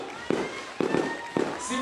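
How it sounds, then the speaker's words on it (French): Firecrackers set off outdoors to celebrate a Muay Thai championship victory, with three sharp bangs spaced about half a second apart, close and loud, amid crowd noise. "Voilà donc Pétard pour sa victoire de James Agathe"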